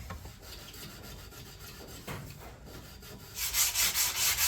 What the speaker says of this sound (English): right now I'm just sanding the cabriole legs right now